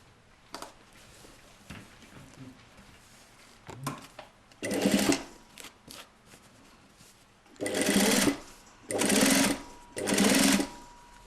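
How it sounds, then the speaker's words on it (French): Sewing machine topstitching a narrow ridge along a corset panel, beginning with faint handling and short starts, then four strong, steady stitching runs near the end. "Et maintenant on va faire une surpiqûre sur cette partie-là."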